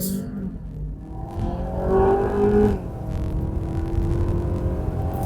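A 2021 Kia Sorento SX with a 2.5 T-GDI engine and automatic gearbox accelerates uphill into a turn, engine note rising steadily as heard from inside the cabin, then settling into a sustained drone.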